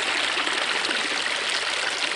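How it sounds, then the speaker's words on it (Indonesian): Water flowing along the Boyong River, a continuous hissing, bright rush of stream current heard close and steady with no voices. "Nah, ini kita ketemu dengan air yang ada di Sungai Boyong ya."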